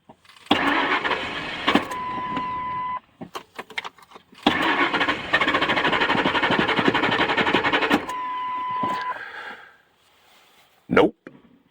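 A truck engine cranking and catching on a restart attempt, loud and close, with a long churning crank, a brief pause, then another sustained crank that dies away, followed by a short thump near the end.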